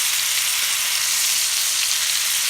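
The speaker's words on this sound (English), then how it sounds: "on a really high heat, that's gonna keep that's gonna sear them nicely." Steak searing in a pan over really high heat, a steady close broadband sizzle that holds level throughout with no talk.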